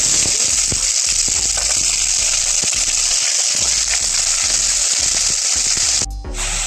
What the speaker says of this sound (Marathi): तेल टाकून घेतले, हे आपण मोहरी टाकून घेऊ. जिरे टाकून घेऊ. कांदे टाकून घेऊ